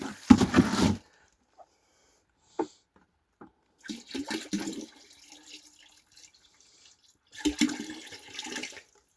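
Several short bursts of water pouring and splashing into an ice chest holding blocks of ice, separated by silent gaps, close and moderately loud.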